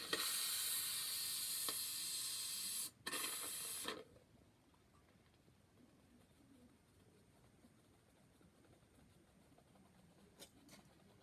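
An aerosol spray can gives a loud, steady hiss of paint applied in a thin coat over half of a baseball glove, in two close bursts with a brief gap, then stops, leaving quiet room tone.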